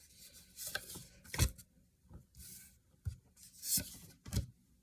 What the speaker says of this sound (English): I'm gonna just shuffle it one more time